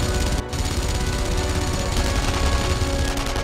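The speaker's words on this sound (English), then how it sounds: "They're shooting at something else, okay." Gunfire in the WWII shooter video game Enemy Front, a dense continuous rattle of rapid shots and blasts filling the whole stretch, loud and unbroken with no talking.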